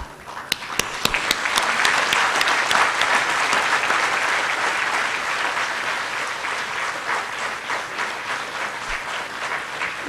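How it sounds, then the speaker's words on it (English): Graduates stand and applaud at an annual convocation ceremony, with a few sharp early claps swelling into loud, sustained applause from a large crowd that carries on steadily for about ten seconds. "give a thunderous applause to show your appreciation to your parents and family members"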